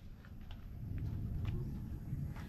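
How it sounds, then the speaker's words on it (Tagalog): Thunder rumbling heavily and continuously through a stormy sky over a village lot, a dense low roar that holds steady for the whole stretch with faint scattered higher sounds above it. "At syempre ang langit ay kanina pa nagagalit. Kulog ng kulog. Lakas-lakas."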